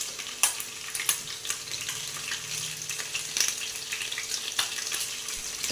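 Egg fried rice ingredients frying in a pan with onions and green chillies, a continuous sizzle broken by sharp spatula scrapes and taps at an uneven pace, close and clear with no speech.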